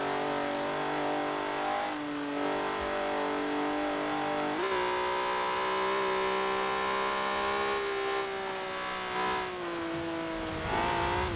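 An Alfa Romeo 155 in Forza Horizon 4 roars under throttle, its engine note climbing and dropping through steady revving and gear changes, loud and continuous with no talk over it.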